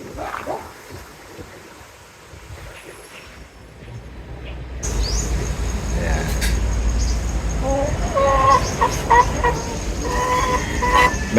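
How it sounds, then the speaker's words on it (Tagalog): Eight Rhode Island hens cluck in a small backyard coop, intermittent calls rising over steady outdoor background noise while a person talks. "Meron lamang po tayong 8 Rhode Island na manok na inaalagaan."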